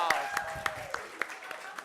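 An audience breaking into light applause at a talk, heard as a handful of separate claps spread over under two seconds, fairly faint and mixed with voices and ambient room sound.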